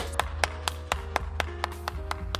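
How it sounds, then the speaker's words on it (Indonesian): Sparse claps ring out at a steady, unhurried rhythm, roughly ten sharp hand strikes over a low steady hum, sounding more like a few people clapping than a full crowd at an Indonesian talk show. "Kalian semua tepuk tangan."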